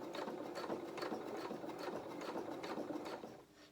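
Domestic sewing machine running steadily as it stitches slowly along the edge of an apron-style doll dress for a 16-inch doll, a close, even mechanical whir with rhythmic needle pulses, briefly easing off at the end.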